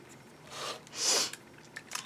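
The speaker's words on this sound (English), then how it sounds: "Excuse me while I sniffle." A couple of short, airy sniffles through the nose, close and fairly quiet, with brief pauses between them.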